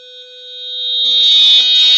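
Reversing parking sensor buzzer on an IoT car system, a loud continuous electronic tone that intensifies and thickens partway through as the car nears the object, no talk.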